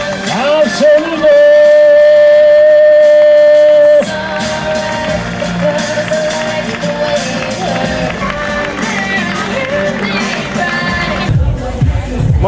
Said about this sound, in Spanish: aplauso para los tres campeones absolutos